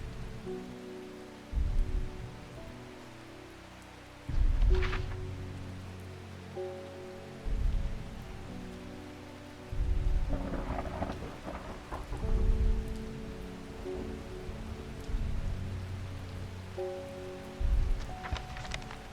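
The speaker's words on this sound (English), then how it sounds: "Oh, it's a rainy day." Rain falls steadily in the video game Strange Horticulture while rumbles of thunder roll in repeatedly, swelling and fading every few seconds, with a soft game music bed underneath.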